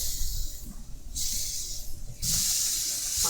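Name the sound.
steak sizzling and hissing in a frying pan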